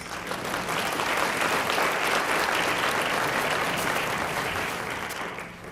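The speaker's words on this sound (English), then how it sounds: "Give our sponsors a round of applause." An audience at a school district hall of fame ceremony gives a round of applause, a dense, even wash of clapping that holds steady and then tapers slightly at the end.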